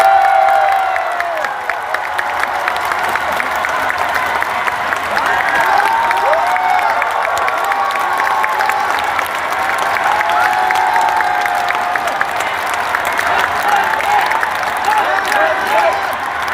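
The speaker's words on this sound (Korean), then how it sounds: "다시 한 번 더 뜨거운 박수 부탁드립니다" A large crowd at a political party convention keeps up sustained applause with some cheering, a loud and dense wall of clapping that holds steady the whole time.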